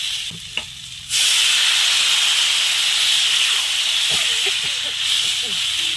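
Water poured into a pan of sautéed kohlrabi and potato curry spiced with salt, turmeric, cumin and coriander powder, setting off a sudden loud, steady steaming hiss that lasts for several seconds after a quieter start.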